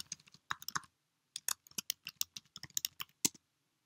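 Keys clatter on a computer keyboard as someone types details into an online payment form, with short irregular bursts of close, crisp clicks separated by brief pauses and no voices.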